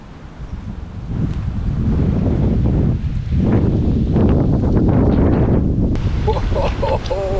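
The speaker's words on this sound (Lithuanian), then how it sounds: "škvalas čia prasidėjo, užtemo, dangus pakilo. Nenormalus vėjas." Strong squall wind gusting over a lake under a darkening sky, heavy roaring buffeting against the microphone that swells and surges throughout, with someone talking over it.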